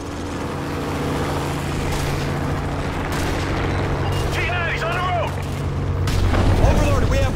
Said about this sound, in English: Russian tanks firing on Granite's position.